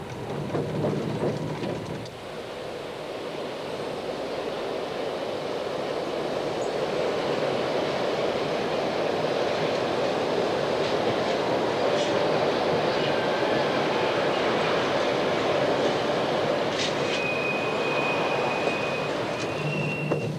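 CC 7107 electric locomotive hauling a train from Ambérieu to Modane in 2000, a steady rolling rumble and hiss heard from on board that builds after a quieter start, with faint high squeals near the end.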